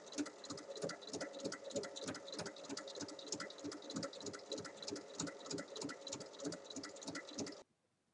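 Sewing machine topstitching fabric for a tote bag with zippered pockets, a steady rapid rhythmic clatter of the needle running continuously at close range, stopping abruptly at the end.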